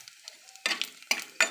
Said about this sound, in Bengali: বন্ধুরা এবার আমি গোটা জিরে দিয়ে দেবো